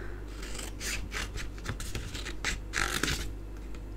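Scissors snip through paper while a tissue gift box is being made, a close run of sharp crisp cuts and rasping slides in an irregular rhythm, heard alone with no speech.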